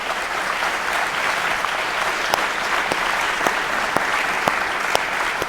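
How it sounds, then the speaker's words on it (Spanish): Church congregation applauding the Lord during a sermon, a full steady roar of clapping from many hands, with scattered sharper claps standing out and no voices. "Denle un aplauso al Señor."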